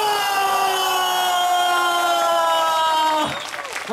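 A church crowd at a small-church fair event roars in a sustained cheer after a group chant, loud and steady with tonal sustained voices, cutting off sharply near the end into quieter room noise.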